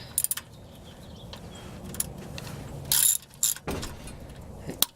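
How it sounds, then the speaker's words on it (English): Ratchet clicks tightening an oil drain plug on the underside of a vehicle during an oil change, a few short close clicking bursts over a quiet background. "now I'll put the ratchet on it"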